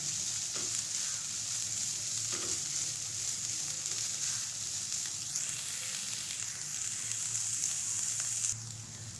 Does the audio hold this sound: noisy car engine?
no